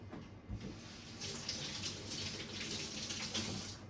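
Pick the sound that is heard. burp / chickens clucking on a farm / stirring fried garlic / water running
water running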